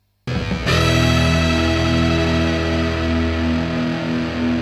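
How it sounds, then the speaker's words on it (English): Electric guitar chord played through a Flattley Violet tremolo pedal, struck after brief silence and then sustained with a steady pulsing wobble, loud, distorted and alone. "The Violet is a tremolo pedal that has some pretty cool features"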